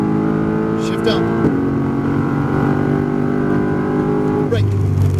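A Mercedes-AMG GT R on a Las Vegas track drones with a steady, loud engine note from inside the cabin, building smoothly with a brief shift-like change partway through, with a person talking quietly.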